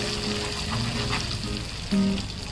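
Red chili powder frying in hot oil for a Konkani-style surmai fish curry, a steady close sizzle with soft crackles and a brief louder burst near the end.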